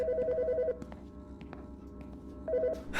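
A telephone rings in the Autopsy Simulator video game, giving two short bursts of electronic trilling separated by a pause, clear and moderately loud over a faint background hum.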